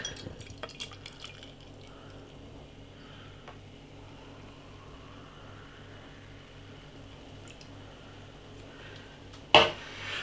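Mango and coconut New England IPA is poured into a glass as a steady, quiet stream of liquid with faint glassy clinks, ending in a brief louder knock near the end.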